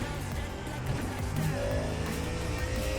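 A Ford Mustang GT3 race car engine in iRacing drones steadily and loudly throughout, a sustained harmonic roar with shifting pitch under light background noise.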